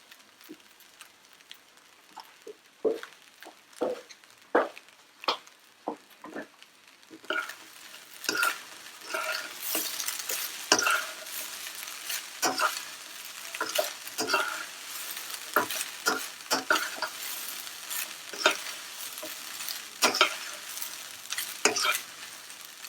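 Vegetable fried rice is stir-fried in a pan, a soft sizzle punctuated by repeated sharp spatula scrapes and taps, growing busier and louder after the first few seconds.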